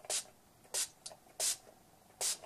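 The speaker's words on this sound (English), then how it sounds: "And then I just spray my face." Facial setting mist sprayed onto the face: four short, bright hissing spritzes, close and fairly loud, spaced unevenly with quiet gaps between them.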